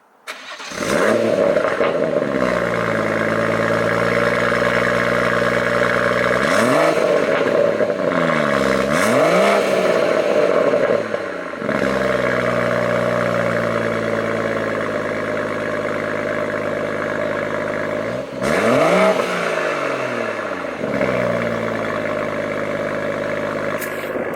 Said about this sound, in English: it'll be rude not to give you a startup and some revs